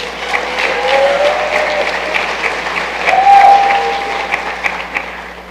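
A convocation audience applauds in a large hall, steady dense clapping from many hands that holds loud and even for several seconds, with a faint tonal whistle riding above it.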